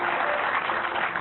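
Applause from an audience greeting a couple, Mr. Louis Tendian and Mrs. Ferawati Hartono, on stage: a short, steady wash of clapping with no voices over it.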